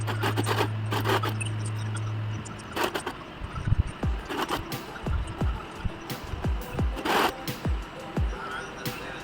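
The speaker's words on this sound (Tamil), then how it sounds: "நம்ம சுற்றி வர தையல் போட்டு எடுத்துக்கணும்" A sewing machine stitching around the edge of a silk pavadai blouse gives a brief steady motor whir up front, then gives way to scattered clicks, fabric handling and occasional speech.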